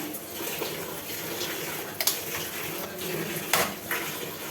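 A kadai pan set onto a stove, with a few sharp metallic clanks and knocks standing out over a steady kitchen hiss, close and fairly loud, no talking.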